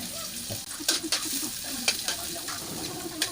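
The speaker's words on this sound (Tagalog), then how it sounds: "Una, igisa natin ang bawang at sibuyas." Garlic, then onion, sautéing in a home pan, a steady close sizzle broken by several sharp scraping stirs, with a faint bird coo in the background.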